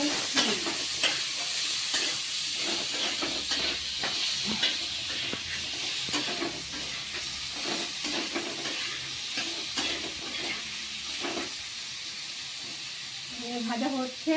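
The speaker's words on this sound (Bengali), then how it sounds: "এই যে আলু ভাজা হয়ে গেছে" Potatoes fry with salt and turmeric in a pan, making a continuous loud hiss and sizzle broken by repeated stirring scrapes, close to the listener, with a brief voice near the end.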